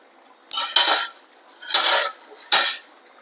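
Four sharp metallic clanks and scrapes as the lid is lifted from a pot of simmering chicken and raw banana curry and set against it, close and fairly loud.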